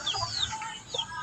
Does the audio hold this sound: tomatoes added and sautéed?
no